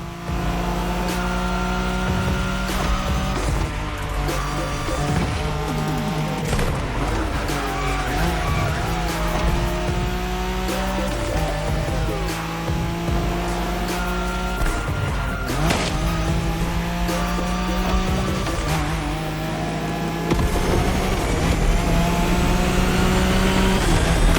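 A Nissan Skyline races hard in The Crew Motorfest, its engine revving loudly up and down through gear changes while tires squeal and skid repeatedly, close and continuous.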